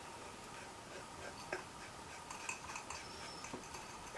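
A 25 watt bulb being screwed into a candle warmer gives faint, sparse scraping clicks of glass and metal threads turning, close by and quiet against a soft background hiss.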